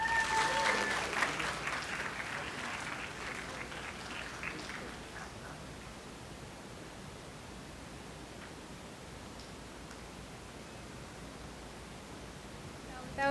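Wedding guests at the Rusty Pelican give applause for the groom's mother, a burst of clapping at the start that quickly fades into faint, distant crowd noise and hiss.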